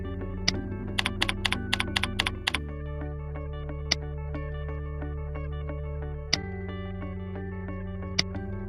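Keys clatter on a computer keyboard as quote details are entered in business software, with a rapid burst of evenly spaced clicks followed by a few sparse, isolated key presses over a steady low hum.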